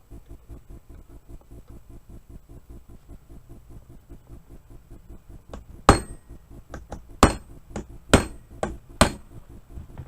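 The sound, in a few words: hammer striking brass fitting on SKS rifle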